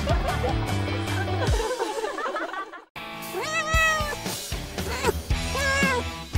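A cat meows repeatedly over background music, several drawn-out rising and falling cries close and clear, with a short silent break in the middle.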